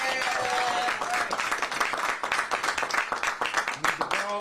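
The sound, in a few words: round of applause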